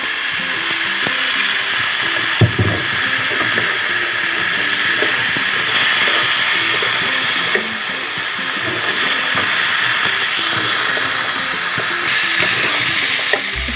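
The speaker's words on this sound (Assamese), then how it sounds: "এতিয়া এইখিনি মই ভাজি আছোঁ।" Spices with turmeric fry in a pan, giving a steady, close broadband sizzle and hiss that runs unbroken throughout, with no talking.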